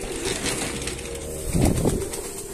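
Racing pigeons coo softly at their loft after a derby in San Fernando, La Union, with low throaty calls close by, a louder burst of cooing near the end, and a faint rustle of wings.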